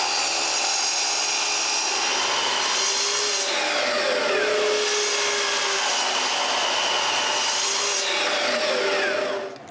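A power saw cuts glued-up wood pieces straight, a loud, close, continuous whining roar that holds steady for several seconds before cutting off at the end.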